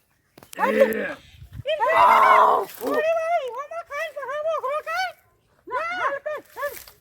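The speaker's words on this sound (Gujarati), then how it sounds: "પેલો બકરો બકા" A goat bleats close by in a series of loud, wavering calls: a few long cries, then a run of shorter quavering bleats, with brief pauses between them.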